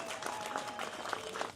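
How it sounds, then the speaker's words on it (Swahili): A crowd applauds the police with a burst of scattered clapping, and a voice is faintly present beneath it. "tuwapigie makofi mengi sana"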